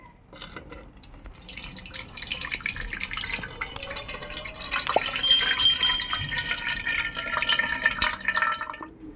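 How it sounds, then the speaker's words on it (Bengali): Water drains off freshly washed lentils being prepared for a bitter gourd dal dish, starting as scattered drips and building into a steady splashing trickle that runs close by, with no talking. "ভালো করে চটকে চটকে ধুয়ে নিতে হবে। জলটা ঝাড়িয়ে নিই।"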